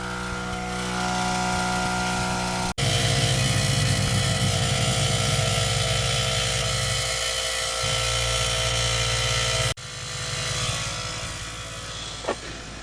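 Air compressor for the air suspension on a Nissan Skyline R34 fitted with coilovers and air cups, running as a loud, steady mechanical drone close by. It cuts out briefly twice and then restarts, with no talking.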